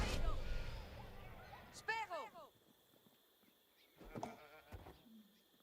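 A sheep bleats in a medieval strategy video game, a short wavering cry standing out briefly after a stretch of game background noise, with fainter game sounds following.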